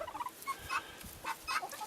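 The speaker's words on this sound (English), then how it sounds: "A couple of turkeys." Faint, rapid gobbling calls from turkeys come in short bursts at a distance, mixed with other fowl sounds.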